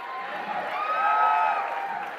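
Audience at a SwingCouver swing dance event applauding and cheering for the dancers, a steady wash of clapping with whoops rising and falling over about two seconds.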